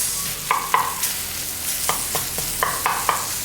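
Curry leaves hit hot oil in a pan for tamarind rasam, producing a steady close sizzle broken by repeated scraping stirs of a spoon against the pan.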